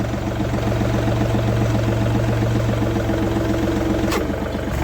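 A tractor engine runs steadily, driving the PTO shaft of a spray tank. It makes a close, continuous low droning hum with no change in pace.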